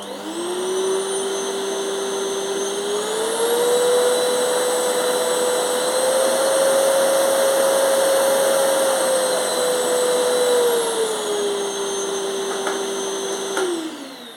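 A Philips Performer Active FC8578/09 vacuum cleaner on its lowest setting whirs up, runs with a steady droning whine that rises slightly in pitch midway, then winds down at the end.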